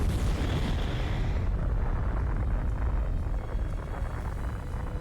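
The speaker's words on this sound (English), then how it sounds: "Nuclear explosion." A huge explosion from the God of War video game, where the god Ares is destroyed, rumbles as a dense, sustained roaring blast that fades slightly toward the end.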